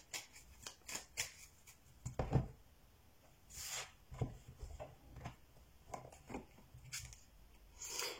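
Oracle cards are handled and shuffled at close range, giving a series of soft, quiet rustles, flicks and taps spread irregularly over several seconds, with no talking.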